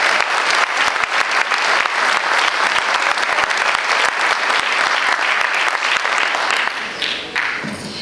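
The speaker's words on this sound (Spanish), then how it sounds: "a todos un fuerte aplauso y un agradecimiento" Strong, sustained applause from an audience at a union and community gathering, dense steady clapping filling the whole stretch and easing slightly near the end.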